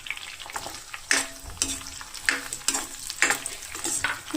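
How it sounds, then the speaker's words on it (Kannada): Onion and capsicum fry on a high flame for chilli chicken, loud crackling sizzle rising in bursts as the pan is tossed and stirred, with no voices. "ಒಂದು 2 to 3 ಮಿನಿಟ್ಸ್ ಫ್ರೈ ಮಾಡಿಕೊಂಡ್ರೆ ಸಾಕು, ಹೈ ಫ್ಲೇಮಲ್ಲಿ"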